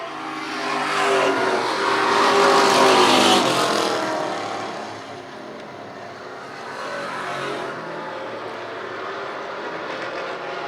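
Race cars roar around an oval track, a loud engine surge swelling past near the start, fading, then a second quieter pass as cars approach again, with no talk.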